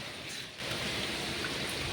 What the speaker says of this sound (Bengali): রীতিমতন ঝমঝম ঝমঝম বৃষ্টি হচ্ছে